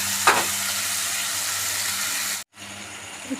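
Chicken and potato pieces for chicken chochchori fry in oil in a pan with a loud, continuous close sizzle. A brief cutout comes near the end, then the hiss resumes.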